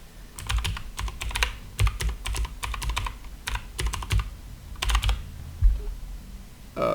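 Rapid typing on a computer keyboard, bursts of close, crisp key clicks with short pauses between runs, alone with no talking.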